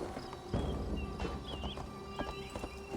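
Horse hooves clip-clop at a walking pace while riding in Assassin's Creed Valhalla, irregular thuds over a busy outdoor game soundscape with faint birdsong and a distant whinny.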